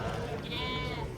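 A lamb bleats with a drawn-out, wavering cry amid the steady murmur of a busy village sheep market, the animal fairly close and clear above the crowd noise.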